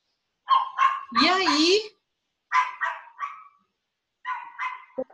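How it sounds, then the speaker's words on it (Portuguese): A small pet dog barks in short bursts, several close yaps and a whine-like yelp, with pauses between, while someone speaks near the microphone. "O cachorro latindo."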